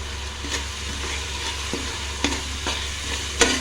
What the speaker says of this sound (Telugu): గరం మసాలా 1 స్పూన్ వేసుకొని కలుపుకుందాము